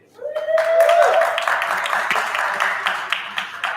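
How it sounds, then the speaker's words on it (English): A live audience at the NDSM Fuse venue breaks into applause for the performer Daydream. A brief tone opens the stretch, then a warm burst of clapping and cheering swells quickly and thins out gradually. "Please a warm welcome and round of applause for Daydream."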